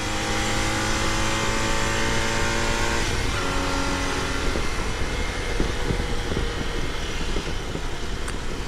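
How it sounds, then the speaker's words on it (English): A BMW R80/RT motorcycle with about 50,000 miles on it pulls hard in second gear, its engine note climbing steadily and loud for the whole stretch, mixed with broad wind rush from riding. "let's get a nice second gear pull here"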